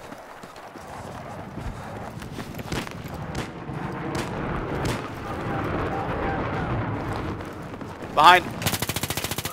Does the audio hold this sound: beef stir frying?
no